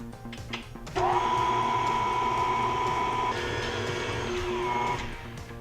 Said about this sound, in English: Next, we're going to add this to our mixer, and when it decides to stay, we're going to mix this all together